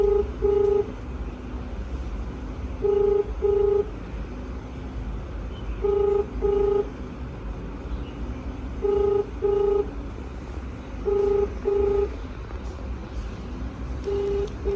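A mobile phone placing a call repeats a regular pattern of paired electronic tones every few seconds against a steady low background, with no talk heard.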